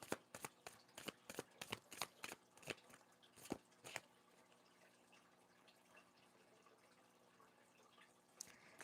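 Large tarot cards riffled and shuffled by hand, a quick run of sharp, close, crisp flurries of card snaps, then quiet handling with one more soft snap near the end, no talking.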